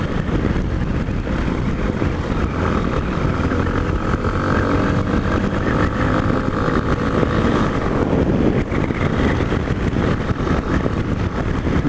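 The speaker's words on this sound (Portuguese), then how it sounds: "Ventinho frio soprando." Cold wind roars steadily past a rider on a Yamaha Ténéré motorcycle, a loud, unbroken buffeting rush blended with the engine's drone throughout.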